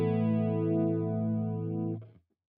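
An electric guitar chord played through a chorus effect pedal sustains with a gentle shimmering wobble, loud and up close, then is damped to silence after about two seconds.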